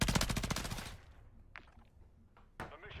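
Automatic gunfire in Call of Duty rattles off as a rapid, loud, evenly spaced burst for about a second, then two sharp isolated shots follow at a distance.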